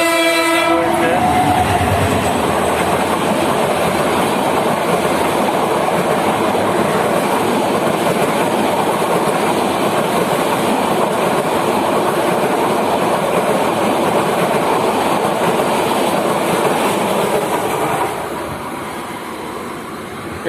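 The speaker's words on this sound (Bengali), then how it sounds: "এটা দিয়ে 2টা ট্রেন এখন পর্যন্ত অতিক্রম করলো সিরাজগঞ্জ এক্সপ্রেসকে" Trains pass a railway crossing at Bangabandhu Hi-Tech City in Bangladesh while the Sirajganj Express waits; a horn sounds at the start, then a loud, steady rumble and wheel clatter runs on before easing near the end.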